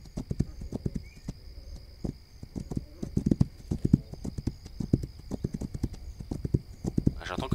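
Horse hooves clip-clop at a steady walking pace in the video game This Land is My Land, a close, regular clopping rhythm that continues throughout.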